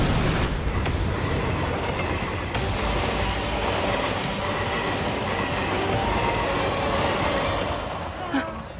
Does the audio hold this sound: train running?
yes